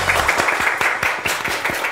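Studio audience applauding on a Japanese football talk show. Steady, dense clapping lasts through the whole short burst, close and lively, with no talk over it.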